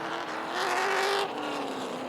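At a race, the pace car and race cars pass the start line with a steady engine roar that swells as they go by, then drops to a lower tone as they pull away, heard at moderate distance.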